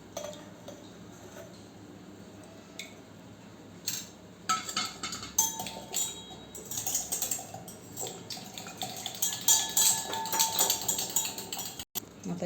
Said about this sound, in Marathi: आता हे दही फेटून घेऊया आपण एका भांड्यामध्ये।